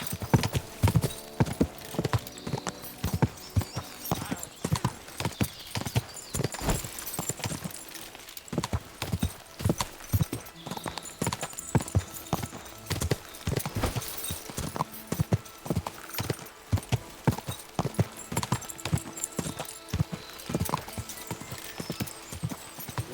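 Horse hooves clip-clopping in the video game Kingdom Come Deliverance II, a brisk, steady stream of loud hoofbeats that continues throughout, with a whinny and other game sounds mixed in.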